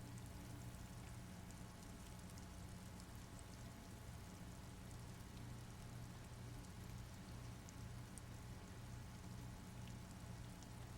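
Steady rain in the video game Disco Elysium, a continuous soft hiss of falling water that stays even and faint throughout, with no voices over it.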